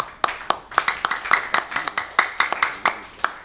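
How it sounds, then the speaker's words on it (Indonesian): Hand claps from a church congregation during a sermon, sounding as a sparse, uneven series of separate sharp claps, roughly a dozen in a few seconds, moderately close and without any talk over them. "ini boleh tepuk tangan buat Tuhan."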